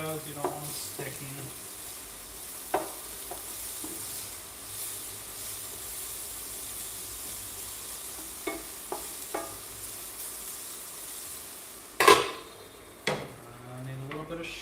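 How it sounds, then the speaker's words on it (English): Potatoes fry with a steady sizzle in a home kitchen pan while being stirred, with scattered scrapes and clinks of a utensil against the pan and one louder clatter near the end; a voice talks faintly now and then. "Don't forget to stir your potatoes, you don't want them sticking."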